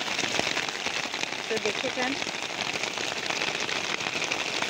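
Rain falls steadily on potted garden plants, including butterfly pea vines and chrysanthemum cuttings, a dense continuous patter with a person talking over it.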